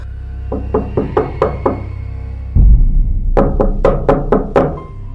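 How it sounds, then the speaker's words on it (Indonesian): Two bursts of loud knocking on a door: a first run of about six sharp raps, a brief pause with a low thud, then a second, louder run of six or seven hard knocks. "Ketukan itu berhenti, tapi beberapa menit kemudian terdengar lagi, lebih keras."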